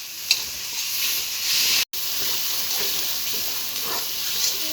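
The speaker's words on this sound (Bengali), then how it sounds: "মশলা দিয়ে ভালো করে ভাজা হয়ে গেছে" Steady sizzling of fish and spices frying in a hot pan, a continuous bright hiss with occasional small pops and one brief cut.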